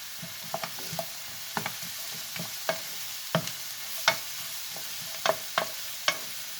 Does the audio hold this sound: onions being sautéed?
yes